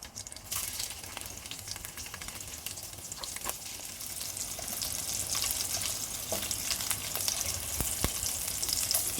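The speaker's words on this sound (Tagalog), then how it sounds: "prituhin muna natin yung shrimp" Shrimp fry in hot oil for pineapple Thai fried rice, giving a continuous crackling sizzle with sharp pops that grows slightly louder over time, with no talking.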